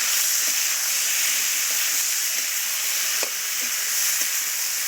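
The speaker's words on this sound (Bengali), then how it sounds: "ঢাকাটা খুলে নিচ্ছি, এবারে নেড়ে চেড়ে নেবো ভালোভাবে।" Vegetables in a pan, just uncovered, hiss with a steady broad sizzle and steam, while a few faint utensil scrapes mark the stirring, continuous and fairly loud.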